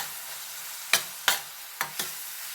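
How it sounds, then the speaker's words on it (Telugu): Steady frying sizzle of an onion mixture in a pan, broken by four sharp scraping stirs of a spatula, close and moderately loud, no voices. "సో ఈ పచ్చివాసన పోయే వరకు కొంచెం కలుపుకోండి."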